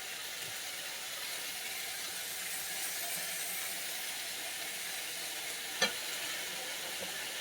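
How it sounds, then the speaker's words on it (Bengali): Potatoes fry in a pan with a steady, soft sizzling hiss that runs evenly throughout, broken once by a brief sharp click near the end. "আলুও ভেজে নিচ্ছি"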